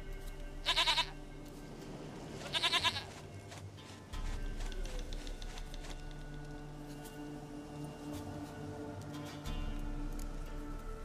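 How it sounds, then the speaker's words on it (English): A goat in The Witcher 3 gives two short, close bleats near the start, over a steady low game ambience and background music. "Goat of mine! Dearest, sweetest goat!"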